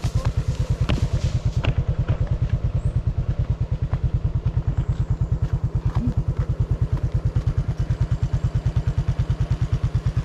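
A motorcycle engine idles steadily with a fast, even chugging pulse throughout, close and fairly loud, with faint clatter.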